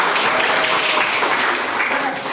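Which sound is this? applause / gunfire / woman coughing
applause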